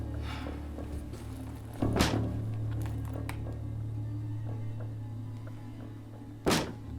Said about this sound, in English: Someone's trying to kick in our door.